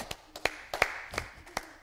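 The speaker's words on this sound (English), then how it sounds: "for some more claps" Hands clapping during a mother and baby yoga session, about half a dozen sharp, close claps in an uneven rhythm over roughly two seconds with quiet gaps between them.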